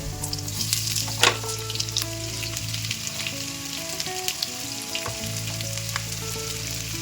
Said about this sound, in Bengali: আমার আদা রসুনটা একটু লাল হয়ে এসছে এবার আমি ওর মধ্যে পেঁয়াজগুলো দিয়ে দেবো